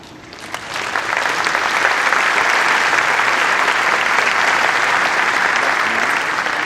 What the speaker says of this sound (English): a warm applause for our Grand Art Ensemble